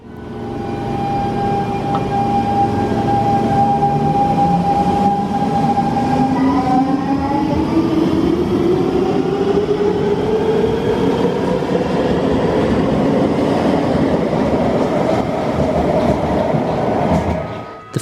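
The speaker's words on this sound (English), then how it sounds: "its Siemens traction motor, whose melodious sound when accelerating and decelerating would be associated with the train model" Siemens C651 metro train traction motor, loud and close, whining through rising and falling musical tones as it accelerates and decelerates, with steady rumble and wheel clatter underneath.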